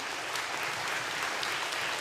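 Applause from an audience at a school event with a live-streamed speech, a soft, even wash of many hands clapping that sounds somewhat distant and continues without a break.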